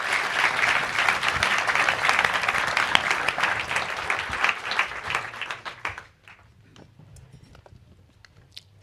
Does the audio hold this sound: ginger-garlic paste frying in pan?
no